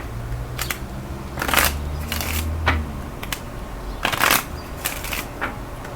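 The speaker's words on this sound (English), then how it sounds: "Oh, I gotta shuffle." Tarot cards are shuffled in a series of short papery riffles and slaps spaced out over a steady low engine-like hum, fairly close and moderately loud.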